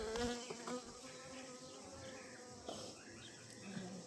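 A close, steady buzzing of many honey bees in a greenhouse hive, a continuous droning hum with a few brief louder thumps.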